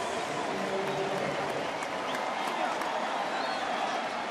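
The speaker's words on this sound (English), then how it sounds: "the Fenway faithful cheering for two guys they know nothing about" Baseball fans at Fenway Park cheering during a Yankees–Red Sox game, a steady, even roar of crowd noise and scattered applause holding throughout, with no distinct peaks.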